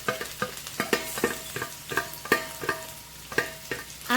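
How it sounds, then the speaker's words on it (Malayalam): Onions frying in coconut oil in a pan for a honey chilli potato snack, with repeated scraping stirs over a steady close sizzle; no talking. "ഇതേ വെളിച്ചെണ്ണയിലേക്ക് നമ്മൾ ഉള്ളി നമ്മൾ നേരത്തെ ചെയ്ത സംഭവമില്ലേ, അത് ഫുള്ളങ്ങോട്ട് ഇട്ടേ."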